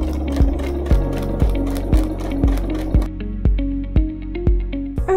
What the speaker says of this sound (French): on va venir coudre sur le trait qu'on a tracé au point droit